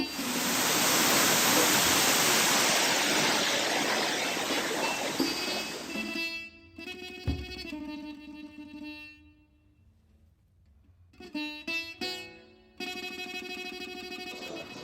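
The Nam Lang waterfall on Koh Samui, Thailand, roars as a steady rush of falling water for about six seconds before cutting away to music.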